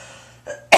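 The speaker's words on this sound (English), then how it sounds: "I have a cough. A nagging cough." A woman's nagging cough, one short throat-clearing burst followed by a sharper single cough, close and loud after a near-silent moment.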